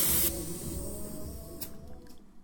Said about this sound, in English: And now he shoots the clear coat.